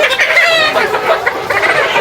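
Close, loud chickens cluck and squawk continuously while being caught for vaccination, several birds overlapping in a busy, agitated chorus.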